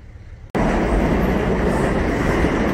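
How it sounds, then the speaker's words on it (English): A freight train with boxcars rolls past close by, cutting in abruptly as a loud, steady roar of wheels and rumbling cars that continues without a break, with no talking. "This is the train I rode from Radford."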